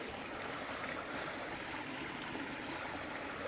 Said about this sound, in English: we heard the water running and just had to stop